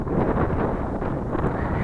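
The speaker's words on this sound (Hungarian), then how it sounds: "próbálok hangosabban beszélni, mint ahogy fúj a szél" Strong wind buffets the microphone on a walking trail near Balatonfüred by Lake Balaton, a loud continuous rumbling roar with gusty fluctuations and no voices.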